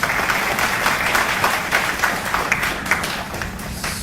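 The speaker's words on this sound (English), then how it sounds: "A big round of applause for everyone." Loud, close applause from a conference audience, a thick continuous clatter of many hands with slight swells, lasting several seconds.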